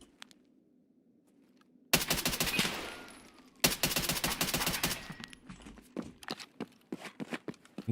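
Video game gunfire in a multiplayer shooter, two long rapid automatic bursts after a quiet start, followed by scattered single shots, loud and close over a low hum.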